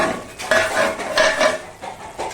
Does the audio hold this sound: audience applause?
no